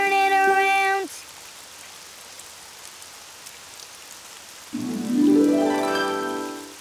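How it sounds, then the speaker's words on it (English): Rain falls outside in a children's cartoon, a steady soft hiss that sits between short bursts of bright musical tones at the start and near the end. "Oh, it's raining outside."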